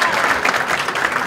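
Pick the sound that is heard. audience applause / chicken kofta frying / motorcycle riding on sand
audience applause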